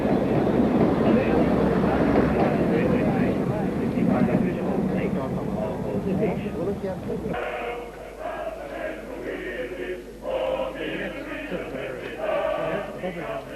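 Ffestiniog Railway and British Rail trains pulling out together from a new station at a flag-off ceremony, a steady rumbling rail noise that eases after a few seconds, with someone narrating over it throughout.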